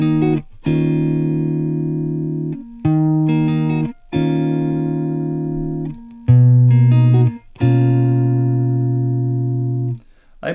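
Guitar chords from a song, played slowly as a series of sustained, ringing strums with brief gaps between chord changes.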